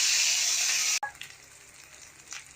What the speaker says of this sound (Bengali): তেল গরম হয়ে গেছে, এখন বড়াগুলো ছেড়ে দেবে।